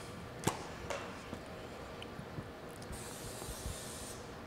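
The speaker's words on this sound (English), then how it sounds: "So we're gonna go ahead and spray the bowl." A short burst of cooking spray hisses into a bowl for pizza dough near the end, preceded by a few soft knocks and handling sounds.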